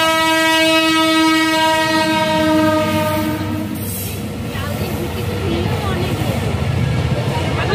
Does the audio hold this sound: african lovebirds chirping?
no